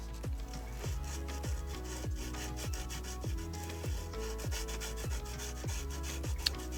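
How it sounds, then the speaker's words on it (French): Fiat Grande Punto car radio buttons are lightly sanded by hand, a steady series of close, soft rubbing strokes repeating at an even rhythm, with no talk. "Je vais poncer comme ça."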